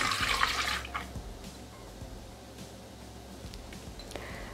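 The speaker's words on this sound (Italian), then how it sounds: "Iniziamo la ricetta mettendo all'interno del boccale il latte." Milk poured into a Thermomix bowl as brioche dough begins, a brief splashing gush at the start that quickly fades into quiet handling noises.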